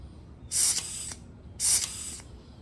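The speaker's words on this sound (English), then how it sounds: "now I'm going to rotate the tire all the way around and add air to it" Air is pumped into a bicycle tire filled with Stans No Tube sealant in two short, hissing bursts about a second apart, each with a brief clicking edge, close and fairly loud.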